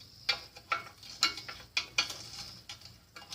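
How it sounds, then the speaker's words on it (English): Tools working an axle loose from the fork of a Schwinn Stingray bicycle, giving a series of close, sharp metallic clicks and ratchet-like taps in an irregular rhythm, with no talk. "now I can remove this axle"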